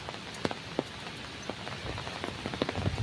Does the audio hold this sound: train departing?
no